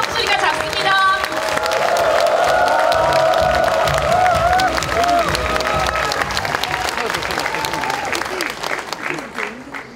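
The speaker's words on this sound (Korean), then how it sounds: "박수를 보내주시기 바랍니다" Loud applause and cheering from party members at a Democratic Party rally in South Gyeongsang Province welcoming a gubernatorial candidate: dense clapping throughout with shouts and whoops rising over it, and a voice over a loudspeaker near the start.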